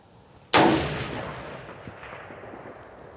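A single sharp rifle shot from a rifle fitted with a PARD Nights Stalker 4K scope cracks loudly outdoors, followed by a long fading echo rolling away over about two and a half seconds.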